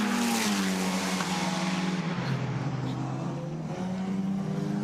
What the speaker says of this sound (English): Down now into the braking zone at turn 11 through turn 12.